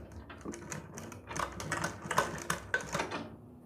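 A sewing machine stitches along the pointed neckline of a kurti, giving a steady run of quick mechanical clatter that thickens and grows louder midway, then tapers off at the end; no one speaks.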